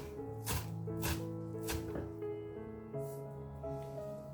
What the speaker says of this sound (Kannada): ನೋಡಿ, ಇದನ್ನು ಕೂಡ ಸಣ್ಣದಾಗಿ ಕಟ್ ಮಾಡ್ಕೊಂಬರ್ತೀನಿ.